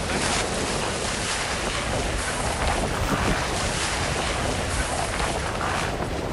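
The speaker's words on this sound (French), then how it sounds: "Oh, le vent en bas!" Strong mountain wind while speed riding, roaring as heavy, constant gusts and buffeting against the microphone for the whole stretch, loud and close, with no talk.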